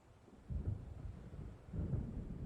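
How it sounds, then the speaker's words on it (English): Low rumbling thunder of a storm in the Alan Wake video game, rolling in two swells under a steady hiss of rain, moderately loud with no talk. "It seems there's a storm coming."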